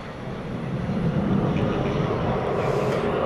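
An airplane lands at night at DFW Airport. Its engine roar rumbles low and steady, swelling gradually from a distance and staying broad and sustained with no clear talk over it.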